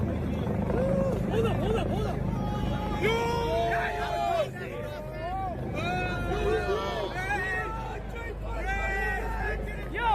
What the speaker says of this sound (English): Yo, that's a helicopter.